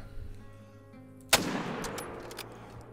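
A single sharp gunshot rings out during a lion hunt in a video game, with a quick decaying tail after a quiet ambient stretch.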